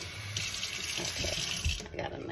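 A kitchen faucet runs a steady stream of water into a cup, a continuous close splashing hiss with a slight shift as the cup fills, alone without talk.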